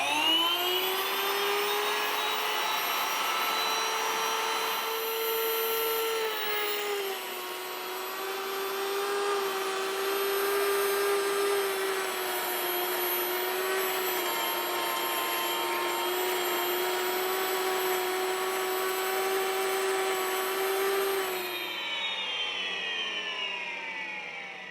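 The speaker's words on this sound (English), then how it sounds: "I'm going to grind the wheat on the bread setting." An electric grain mill grinds wheat on a bread setting, a loud, continuous high whine with a steady motor hum that holds for about twenty seconds, then drops as the mill winds down near the end.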